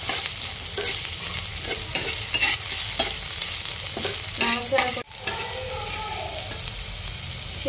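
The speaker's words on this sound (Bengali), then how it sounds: "সিদ্ধ হওয়া পর্যন্ত একটু ভেজে নেব" Garlic frying in a pan for coriander-leaf bhorta, a loud continuous sizzle and crackle with rhythmic stirring scrapes up close, briefly interrupted by a sharp knock.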